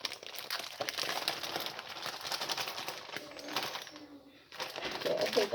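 A resealable plastic bag of currants is crinkled and handled close by for several seconds, with soft rustling and a brief lull, while people speak quietly over it.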